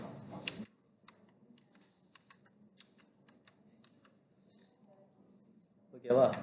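Rapid, light clicks of typing on a computer keyboard while entering a comment in a spreadsheet, a close, steady run of keystrokes between louder bursts at the start and end, with no talking over the keys.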